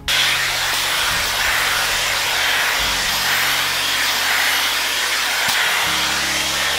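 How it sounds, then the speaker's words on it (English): A hair dryer runs off a portable power station in a van, giving a steady, loud whooshing hiss and hum from start to finish with small shifts in pitch and no talk. "I think a hairdryer should kind of do the job."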